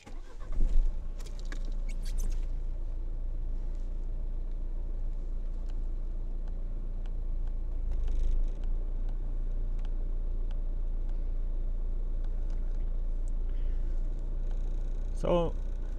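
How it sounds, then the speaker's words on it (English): A Dacia Duster engine with about 77,000 kilometres idles steadily with a low, constant hum, a brief mechanical click at the start and a faint chirp near the end. "let's go on and see how the engine sounds like after"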